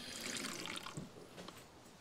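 Water splashes and pours into a blender for a mango habanero salsa, a brief burst of close liquid noise that tapers off quickly.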